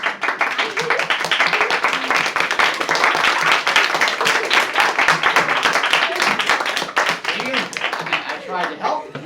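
A crowd claps in a dense, steady burst that lasts for several seconds and then thins toward the end. Voices can be heard mixed in with the clapping.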